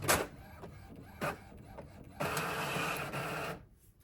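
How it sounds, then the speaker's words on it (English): An inkjet printer runs off labels, with whirring, clicking paper-feed bursts and a steady mechanical printing stretch before it goes quiet. It sounds close and alone, with no voices. "just let them dry for a few minutes if you're using an inkjet printer like I am"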